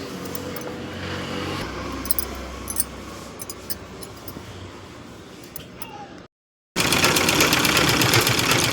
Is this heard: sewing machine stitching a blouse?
yes